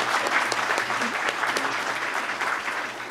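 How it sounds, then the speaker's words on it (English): Audience applause for a panel at a technical briefing on local production of medicines, a steady patter of clapping lasting about three seconds with no talk over it. "can we have a hand of applause for the panel as we move?"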